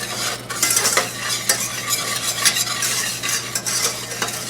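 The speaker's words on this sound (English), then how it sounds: "You're going to whisk the sugar into the egg yolks." Sugar being whisked into egg yolks in a bowl for peach ice cream, a steady close scraping and rattling of the whisk with rhythmic strokes and no talking.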